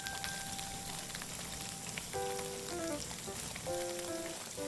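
Tofu pan-frying in plenty of oil gives a steady crackling sizzle from start to finish, with light music playing alongside.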